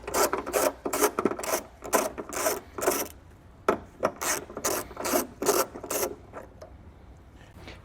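Ratchet wrench with a 10mm socket loosening a tie-down bolt on a 2023 Mazda CX, a close series of rapid rasping clicks in repeated bursts with brief pauses between strokes, no talking.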